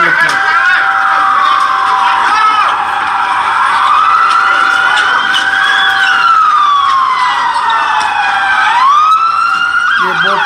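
A loud police siren wails continuously, rising and falling in long sweeping tones, with a sharp pitch jump near the end; street noise sits underneath.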